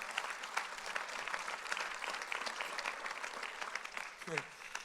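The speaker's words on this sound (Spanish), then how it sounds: "damos un aplauso al Señor" A church congregation applauds during a Sunday worship service, a steady broad wash of many hands clapping throughout, with a voice briefly rising near the end.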